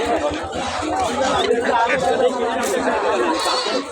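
Goats bleat repeatedly amid a busy crowd of chattering voices at a goat market, the animal cries rising over steady market noise.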